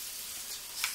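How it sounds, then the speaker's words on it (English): Light, steady sizzling of popcorn chicken frying in shallow oil over low heat, soft and even throughout, with a couple of small pops near the end. "You don't want to hear like a crackling sizzle, you want to hear a light sizzle."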